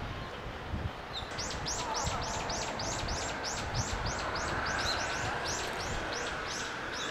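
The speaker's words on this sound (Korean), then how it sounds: "새소리까지 같이 들리고 너무 좋다 여기." A bird repeats a rhythmic, high chirping call about twice a second among white-pink cherry blossoms at the Jeju National University entrance, heard over a steady outdoor background hum.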